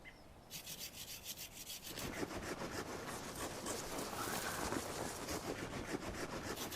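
Coppiced willow trees being cut down low on wetland, a steady rasping saw-like cutting that swells after a quieter start and continues loud and rhythmic without talk.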